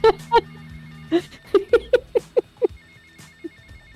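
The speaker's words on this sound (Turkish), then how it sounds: "Telefon çalıyor ya." A telephone rings in GTA Vice City, a run of short, evenly spaced electronic rings clustered near the middle, loud and close, with laughter and chatter around the start.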